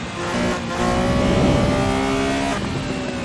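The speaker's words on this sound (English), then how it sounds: "the sound of that flat six is absolutely astonishing" A flat-six racing engine revving hard in Assetto Corsa on a Los Angeles canyon road, its sharp harmonic whine climbing and holding, with tire noise underneath.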